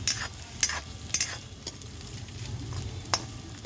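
Chopped capsicum cooks in a pan over a village clay stove for vegetable Maggi, giving a soft continuous sizzle broken by several sharp clicks of a stirring utensil.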